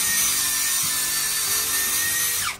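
A HUKAN 16.8V cordless mini screwdriver drills a test hole into a block of pine wood, giving a steady close whirring grind that runs throughout and then winds down at the end, with no voices.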